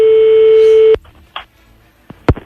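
A steady telephone tone plays loudly for about a second while calling someone back, then cuts off, followed by a few brief clicks and a short sharp knock.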